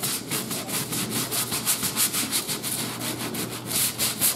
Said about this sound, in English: Take a scrub brush and just scrub all that away